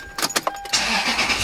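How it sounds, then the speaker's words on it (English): A Toyota Land Cruiser 100 (LX470) engine starts up: several sharp cranking bursts, then the motor catches and settles into a steady, fairly loud idle, close by with no talking. "Turn your car on."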